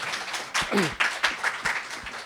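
Sparse, scattered clapping from a small roundtable audience at a literature book fair in Jaipur, honouring an author, with a few distinct claps and a brief voice heard partway through.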